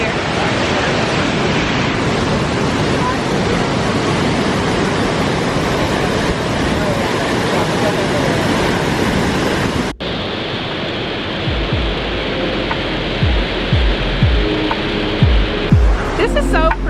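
Burgess Falls pours in a loud, continuous rushing roar of falling water close by, broadband and steady, then a sudden drop to a softer level with wind buffeting and faint voices near the end.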